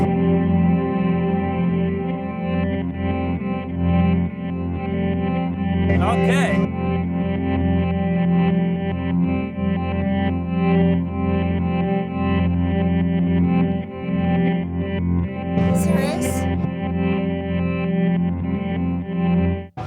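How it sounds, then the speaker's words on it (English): A sustained, frozen guitar drone from a guitar pedal's freeze sampler, with chorus and distortion, hums continuously while a person talks briefly over it. "What I love about the freeze feature is you can audition different sounds with the same sound sample"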